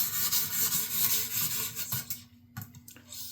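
A knife blade drawn repeatedly across the 400 grit stone of a Xarilk Pro precision sharpener, a close, continuous abrasive rasping that thins out into a few brief strokes near the end, with no talk.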